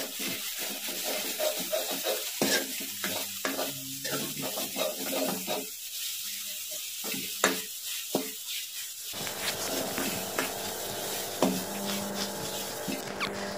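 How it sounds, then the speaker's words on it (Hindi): Fish curry masala with salt and turmeric powder frying in a pan: a steady soft sizzle with scattered scraping stir strokes, louder and denser in the second half, no talking. "दोनों को अच्छे से डालकर इसको थोड़ा सा और भून लेते हैं"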